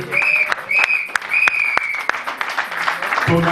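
An audience in a church applauds, with rapid clapping running throughout and a loud sustained tone over it, close and fairly loud, with a voice briefly audible near the end.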